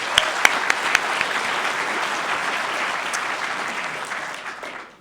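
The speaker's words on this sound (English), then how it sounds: "So let's give ourselves a round of applause." A room full of people at a storytelling night applauds together, a dense, steady wash of clapping with a few sharper claps up front that holds for several seconds before thinning out at the end.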